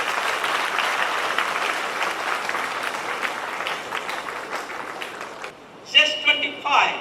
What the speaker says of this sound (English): give him a great round of applause to our chief guest